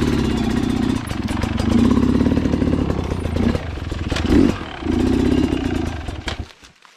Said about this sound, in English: Did you turn that bike off on purpose?